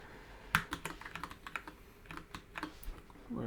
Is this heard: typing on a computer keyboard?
yes